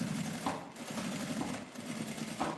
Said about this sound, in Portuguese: Aqui eu vou passar a costura na aba, onde está aquela abertura